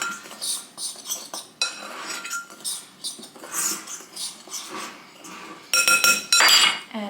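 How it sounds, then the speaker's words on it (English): Dry tortilla ingredients being mixed in a bowl with a utensil, a close run of rapid scraping and clinking strokes in quick bursts, ending in a louder, denser stretch of rattling clinks. "I'm just gonna mix up all the dry ingredients."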